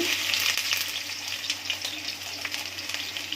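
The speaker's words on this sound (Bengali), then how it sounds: "দিয়ে দিচ্ছি তেল পরিমাণ মতো, রসুন কুচি" Chopped garlic drops into hot oil and sizzles loudly, a dense crackling hiss that stays close and steady throughout, with no one talking.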